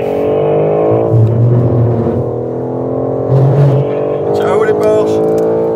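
Porsche cars on a race track, a loud, steady engine drone that swells twice into stronger revving, with faint voices underneath.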